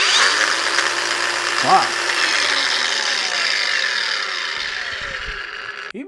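A DCK 20V cordless brushless 4-1/2 inch angle grinder runs at max speed with a steady, close, high-pitched whine that eases off near the end, while a voice makes a brief exclamation.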